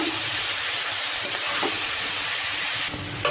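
Diced papaya sautéed in a hot pan for sweet pulao, giving a steady close sizzle and hiss with a few stirring scrapes, a bit louder near the end.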